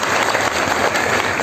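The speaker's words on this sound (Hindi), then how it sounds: "और उसी जी का जोरदार तालियों के साथ में स्वागत।" An audience at a village gathering breaks into loud, dense applause to welcome a guest, continuous close clapping filling the short stretch.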